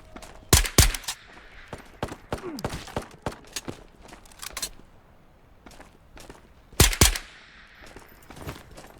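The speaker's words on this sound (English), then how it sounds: "I like how I can kind of point fire the SMG" Bursts of SMG fire in the Ghosts of Tabor VR shooter crack out in short clusters, loud and close, with quieter shuffling footsteps and handling noises filling the gaps between them.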